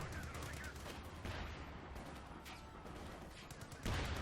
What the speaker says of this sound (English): It says can attack enemies using small arms within the sides of the tanks.